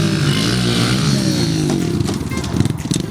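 Small pit bike engines, a Honda CRF110 and a Kawasaki KLX110, race around a backyard dirt track. They rev loud and close, with a steady drone that turns into rough, choppy revving toward the end.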